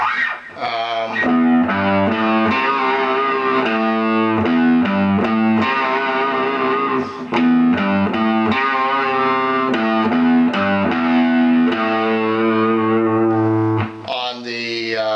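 Distorted electric guitar plays a repeating riff of punchy notes and chords on the first two strings, loud and continuous, with no talking.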